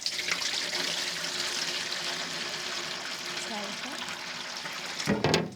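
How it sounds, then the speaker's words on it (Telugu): Water pours steadily into a large cooking pot set over a wood fire for a mango custard pudding, a continuous rushing splash that ends with a brief clatter. "ముందుగా అయితే దీంట్లో మనం నీళ్లు పోద్దాం."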